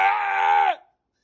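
A single loud, close goat bleat lasting under a second, a harmonic wavering cry that cuts off abruptly into silence.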